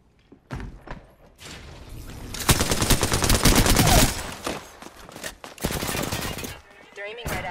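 Gunfire in the Apex Legends battle royale game: after a few sharp isolated shots, dense automatic bursts hammer loudly for about two seconds, then further volleys and scattered impacts follow, with a voice speaking over parts of the action.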